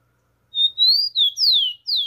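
A tico-tico (rufous-collared sparrow) sings a few clear, bright whistled phrases, close and loud against a silent background, with no voices.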